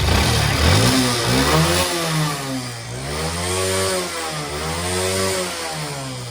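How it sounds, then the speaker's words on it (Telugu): A motorcycle engine revs up and down in repeated rising and falling swells, loud and close, with a continuous mechanical drone and no voices, heard while checking engine noise after a carbon cleaning treatment. "అండ్ ఇంజిన్ నాయిస్ కూడా చూడండి, చాలా సపోర్ట్ నాయిస్ అయితే మనకి తెలుస్తూ ఉంది ఇక్కడ."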